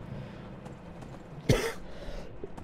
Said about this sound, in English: I have been coughing all week.